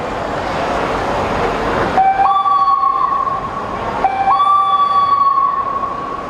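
A voice imitates the call of a male Asian koel: two rising, whistled calls a couple of seconds apart over a steady, rushing background noise.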